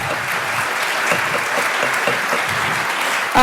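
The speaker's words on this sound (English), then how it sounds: "as much as I love hearing all of your applause for our wonderful speakers" An audience at a public climate change hearing in Idaho claps steadily for speakers, a dense, even wash of applause with a brief louder burst at the very end.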